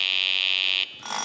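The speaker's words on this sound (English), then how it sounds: "Oh, buzzer works on this side." A game show buzzer in an office quiz game sounds one steady, shrill electronic tone for under a second, then cuts off as a soft hiss takes over.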